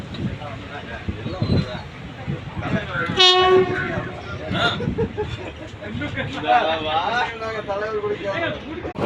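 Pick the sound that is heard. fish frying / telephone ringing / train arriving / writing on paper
train arriving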